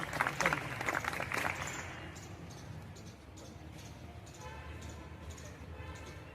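A crowd claps briefly at a school badminton court inauguration, with the applause loudest in the first two seconds and then thinning out under a voice and background room noise.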